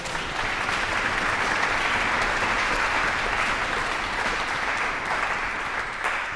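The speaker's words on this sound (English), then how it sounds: "So give Anna an applause." An audience applauds the electronics-and-strings performer Anna Schoen after a symphony world premiere, a broad, steady roar of many hands clapping throughout.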